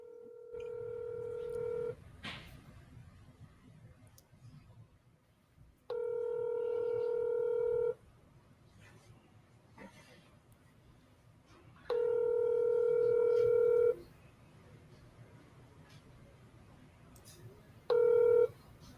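Telephone dialing tones during a sales call, heard as three separate bursts of steady multi-tone beeps, each a couple of seconds long, with a short final beep near the end and quiet room noise between.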